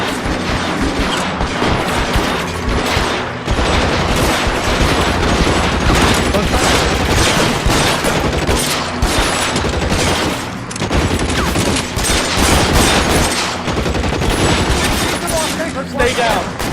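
Sustained heavy gunfire in an L.A. Noire shootout, rapid overlapping shots crackling nonstop and close, with shouted voices mixed in.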